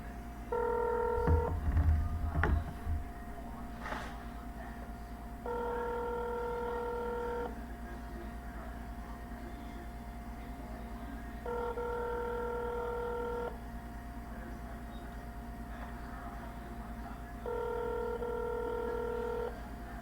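Telephone keypad dialing tones while a call is placed, four evenly spaced two-second beeps at steady volume over a low background hum, with a brief clatter near the start and no talk.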